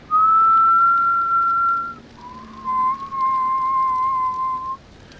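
Whistling from a character in the video game The Walking Dead: Saints and Sinners, one long steady tone and then a second long wavering note, clear and alone with no talk.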